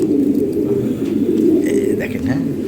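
Big, strong European Lahori Sirazi pigeons cooing close by in a low, continuous throaty rumble with a few rising coos, heard alone without talk.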